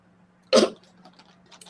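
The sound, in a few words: cough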